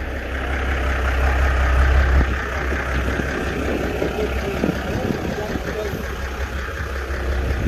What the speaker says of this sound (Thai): เครื่องยนต์เงียบมากครับ